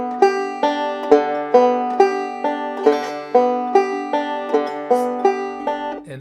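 A plucked banjo picks out a steady Scruggs-style rolling pattern starting on the fourth string, quick notes repeating in even groups, played alone and up close.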